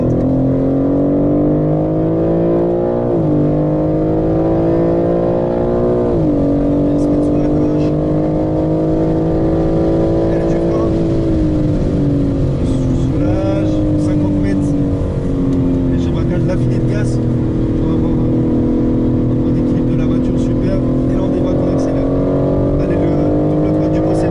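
A car accelerating on a track after a quick clutch release, its engine a loud continuous drone that rises in pitch with a few brief dips at shifts, heard from close by throughout.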